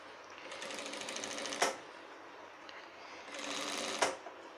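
A sewing machine stitches a shirt sleeve in two steady bursts of rapid mechanical whirring, each ending with a sharp clack, heard close and fairly quiet with a pause between them.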